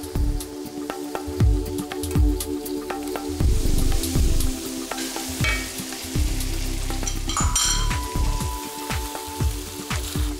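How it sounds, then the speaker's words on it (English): Lamb and onion sautéing in a pan, a loud steady sizzle and frying crackle broken by repeated scraping and stirring knocks from a utensil, close up with no talk. "now just saute the lamb in the onion"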